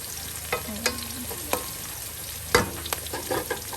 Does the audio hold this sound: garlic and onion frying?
yes